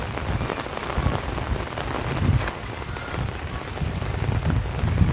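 Heavy rain pours down on flooded village farm fields during a third straight day of downpour, a loud, dense and unbroken hiss of drops close by, with no voices.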